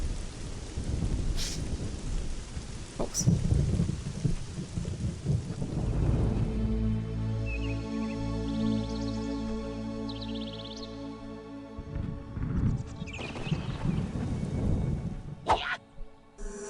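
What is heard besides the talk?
lightning storm with thunder in Black & White video game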